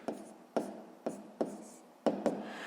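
Writing on paper for a sixth-grade maths exercise, with six distinct pen strokes tapping down and scratching briefly at an uneven pace, close and fairly clear, with no speech.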